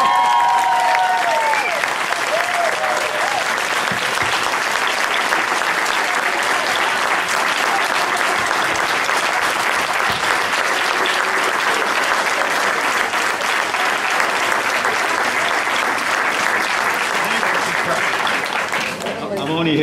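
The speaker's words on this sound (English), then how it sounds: "how about a nice round of applause?" A sustained round of audience applause at a school board of education meeting, a thick, steady wash of clapping for nearly twenty seconds, with brief speech and tones at the start and a sharp sound at the very end.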